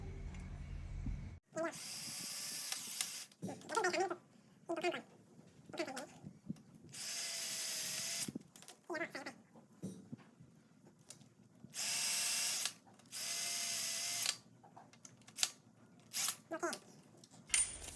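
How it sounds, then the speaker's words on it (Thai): Small nut being fitted and tightened by hand on the sight of a speargun, giving bursts of ratcheting, clicking mechanical noise in short repeated spells separated by pauses. "แล้วก็ใส่น็อตเข้าไปดูให้มันตรงรู"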